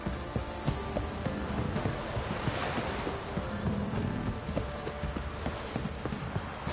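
Horses' hooves clip-clop in an uneven rhythm in the Witcher 3 video game, set against a constant windy, surf-like ambient bed, moderately loud and without talk.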